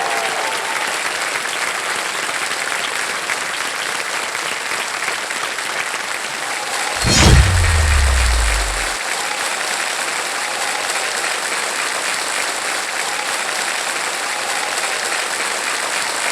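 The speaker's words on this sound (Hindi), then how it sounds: "मैं चाहूंगा तालियों के साथ उनका" A studio audience on a television quiz show breaks into applause to welcome a guest, a sustained wash of clapping that swells briefly partway through under a low musical sting, then carries on steadily.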